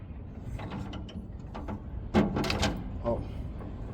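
Ratchet clicks from tightening track bolts on a Case CX210 excavator with a socket wrench, with short bursts of mechanical clicking and a louder cluster midway, fairly close over a low background rumble.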